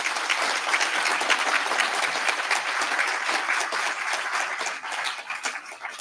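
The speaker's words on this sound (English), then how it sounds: "Let's give them a round of applause." Sustained audience applause at a World Trade Congress on Gender, a dense, steady wash of many hands clapping that holds loud for several seconds before thinning slightly toward the end.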